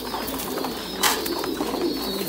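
Trumpeter pigeons at a pigeon farm give soft, low cooing over a steady hum of ambient noise, with a brief louder rustle or flutter partway through.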